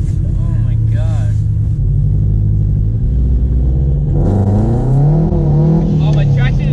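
A supercharged Toyota GT86 with a UEL Subaru rumble exhaust revs loud and close, its throaty engine note rising and falling in a steady drone, with a sharper climb near the end and people talking inside the car.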